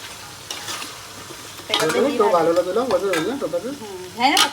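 Cauliflower, carrot, green beans, capsicum and peas fry and sizzle in green chili paste in a big pot of vegetable pulao, steady close sizzling with stirring scrapes while someone talks over it.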